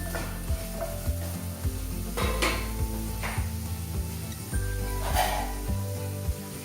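Vegetables with salt fry and sizzle steadily in a pan, with a continuous close hiss and repeated scraping stirs and light utensil knocks throughout.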